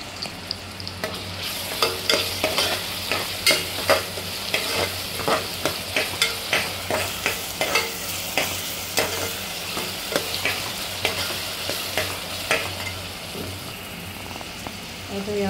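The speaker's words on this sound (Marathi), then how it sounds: "त्यानंतर हा कांदा मी फोडणीला टाकलेला आहे।" Chopped onion sizzles in hot oil in a pan with crushed ginger and garlic while cooking pav bhaji, a spoon scraping and stirring in quick repeated strokes over a steady fry; a voice murmurs faintly in the background.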